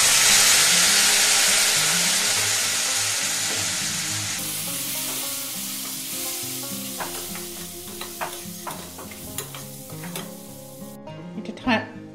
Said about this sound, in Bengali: দিয়ে অল্প একটু জল দিয়ে এটা কষে নেব